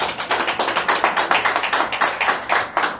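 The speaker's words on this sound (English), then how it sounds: "Give the Lord a hand clap of praise" Church congregation clapping hands in praise, a dense, loud run of rapid overlapping claps with a quick irregular rhythm, close and filling the room with no talk.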